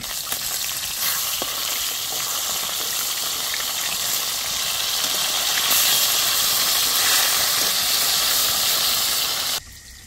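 Snakehead fish fry in hot oil with a loud, continuous sizzle and hiss that holds steady for about ten seconds, then drops off abruptly near the end.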